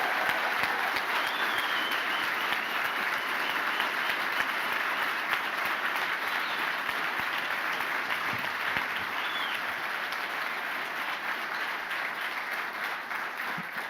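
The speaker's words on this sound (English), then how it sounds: "how about a special round of applause for Dr. Shalice Seacrest and Charles Mujahid" Audience at a debate on race in America applauding steadily, a dense, even wash of clapping that holds at constant loudness for the full stretch without any talk over it.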